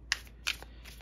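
Tarot cards are shuffled and drawn from a deck in a few quick, soft riffling flicks, close and quiet.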